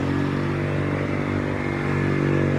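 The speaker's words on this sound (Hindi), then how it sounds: "जो भी गाड़ी मोटरसाइकिल गुजर रही है वो आधी से ज़्यादा डूबी हुई है" A motorcycle rides through deep standing floodwater on a street in Samanabad, Lahore, after heavy rain, its engine droning steadily and close by with watery clatter and scraping underneath.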